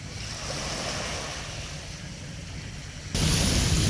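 Ocean surf on a beach in Nassau rolls as a steady close wash with wind buffeting the microphone. It swells louder near the end.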